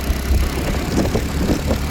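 An auto rickshaw engine idles steadily close by, a continuous low rumbling chug with no breaks over its short length.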